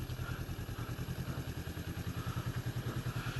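A motorcycle engine idles steadily while the bike is being parked, a close, rhythmic low chugging with a clattery mechanical edge and no speech.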